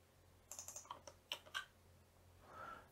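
Quick bursts of clicking keys on a computer keyboard, set up for programming an ESP32 to connect to an MQTT broker, rattle out for about a second, pause, then click twice more, quiet and close.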